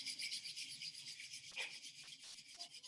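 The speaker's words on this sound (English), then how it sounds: "Now don't open your eyes and rub your hands. Rub your palms." Palms rubbing briskly together during a children's relaxation exercise, a steady close dry swishing rasp with a few brief pauses and quick strokes near the end.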